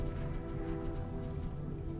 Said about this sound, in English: Oh, the rain.